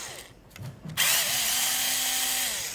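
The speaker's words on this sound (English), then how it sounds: "I would go back a little bit on the screws, make them less tight in all corners" A power drill loosening screws on a subassembly, with a short scrape and handling before the motor whines steadily at close range for almost two seconds.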